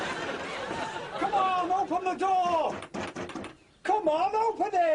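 Heavy banging on a closed door, with loud, upset shouting voices over much of it and a brief quiet gap near the end.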